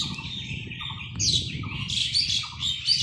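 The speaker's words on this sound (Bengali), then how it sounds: "এই যে ফল, পাখিগুলো খাচ্ছে।" Birds feeding on fruit in a village banyan tree give repeated harsh squawks and chirps, fairly close and continuous, over a low background murmur.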